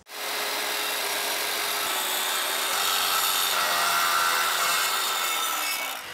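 Continuous sawing through rough-sawn cedar boards, a steady rasping stroke sound lasting several seconds, loud and close with no voices.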